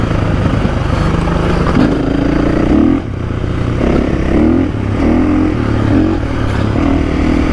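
A 2024 KTM 500 EXC-F four-stroke dirt bike engine runs loud and steady while cruising on a trail, its drone rising and falling with throttle changes and a few rev swells, with other riders' bikes nearby.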